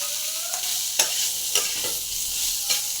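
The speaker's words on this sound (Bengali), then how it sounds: "সোয়াবিনটা একটু ভালো করে নেড়ে চেড়ে ভেজে নেবো" Soybean chunks fry in hot oil for an aloo-soyabean dish, with a steady sizzle and a few distinct scrape-and-stir knocks of a spoon in the pan, close and loud, no voices.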